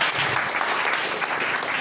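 A church congregation applauding together, a dense continuous patter of clapping hands at moderate level, steady for the whole stretch.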